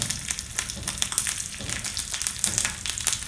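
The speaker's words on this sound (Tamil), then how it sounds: "கடுகு பொரியுதுங்க" Mustard seeds crackle and splutter in hot oil, a dense run of sharp pops and sizzling, close up and continuous.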